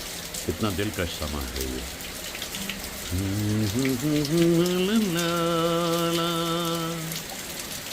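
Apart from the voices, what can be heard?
rain showers falling in the evening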